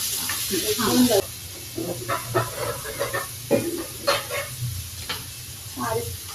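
Tomatoes dropped into a hot pan of chole masala in a home kitchen, giving a steady sizzle with stirring scrapes, a brief clatter near the start, and someone talking over the cooking.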